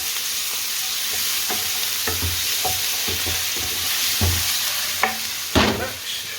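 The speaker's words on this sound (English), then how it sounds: "Just sizzle that off briefly." Ginger and garlic sizzle steadily in a hot pan with lamb, a continuous close hiss broken by occasional scrapes and clicks of stirring.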